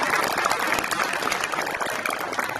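Applause at a high school National Signing Day ceremony, a full, dense crowd clapping continuously at steady loudness throughout.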